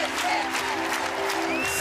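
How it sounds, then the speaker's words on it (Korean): Steady applause from a film audience, continuous and moderately loud, with a faint tonal hum running underneath. "관객들이 박수를 치면서 자인! 자인! 하면서 영화 속 주인공의 이름을 외치는 모습을 봤습니다."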